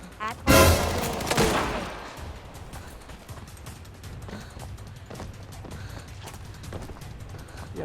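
A loud burst of gunfire erupts in Arena Breakout, then fades into softer scattered shots and mechanical clatter.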